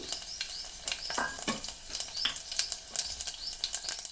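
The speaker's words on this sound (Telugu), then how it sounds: "ఆయిల్ హీట్ ఎక్కినాక తాలింపు దినుసులు" Tempering spices dropped into hot oil for a bachelor-style sambar, crackling in a steady close sizzle with quick pops and stirring scrapes throughout, no voices over it.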